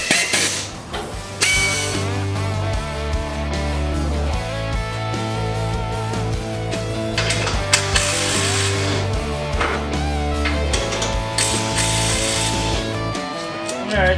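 A power drill bores holes in a shop while a steering box is remounted. Its loud, steady whining motor runs almost continuously, stepping up and down in pitch as the bit works through the material.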